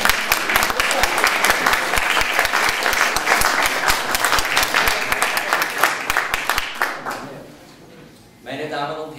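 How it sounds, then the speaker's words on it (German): A dense, loud burst of audience applause opens an evening gathering of local council election candidates in Wildon, then thins and fades near the end as a voice begins. "Ich möchte mich vorweg aber gleich bedanken für diesen netten Eingangsapplaus"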